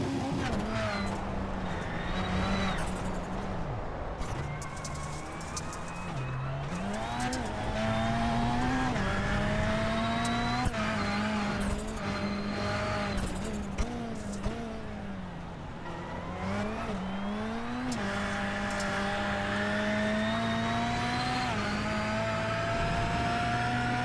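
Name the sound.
onboard audio of race-leading Rallycross Lites car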